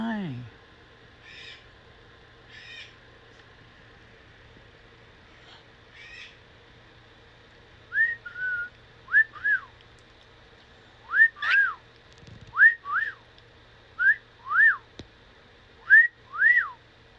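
A cockatiel kept in quarantine whistles and mimics, repeating short rising-and-falling whistled notes that come faster and louder toward the end, heard close by over a quiet room with a faint hum.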